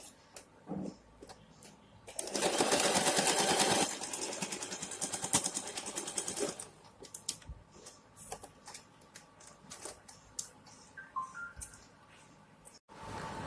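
A sewing machine stitches a pant seam in one loud, steady burst of a few seconds, close by, then stops, leaving scattered small clicks and handling sounds.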